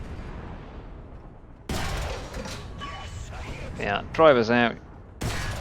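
A T-50 tank's cannon fires in War Thunder on a dockside map, a sudden loud shot that breaks a quiet stretch, followed by mechanical clatter, a second sharp blast and someone talking.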